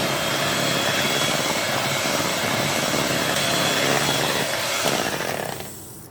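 An electric beater mixes vanilla cake batter after milk is added, giving a loud, close, steady whirring drone that runs for several seconds before cutting off near the end.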